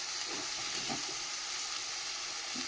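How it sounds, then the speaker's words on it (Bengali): Cabbage fries in a wok, a constant hissing sizzle close up, broken by a few soft stirring scrapes, with no talking. "অল্প অল্প করে দিয়ে নাড়িয়ে নেবো, তাহলে কমে যাবে।"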